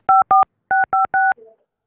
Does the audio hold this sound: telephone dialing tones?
yes